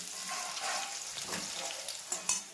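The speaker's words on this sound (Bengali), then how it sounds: "একটু পেঁয়াজটা ভাজা হোক" Onions and spices fry in a pan on a home stove, giving a soft, continuous sizzle. A few brighter crackles and stirring scrapes stand out near the end, and nobody talks.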